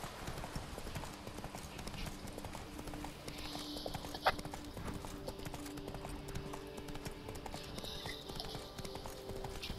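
Horse hooves clip-clop at a steady walking pace in The Witcher 3: Wild Hunt's Blood and Wine vineyard setting, moderately near, under an ambient game soundscape with a brief louder knock partway through.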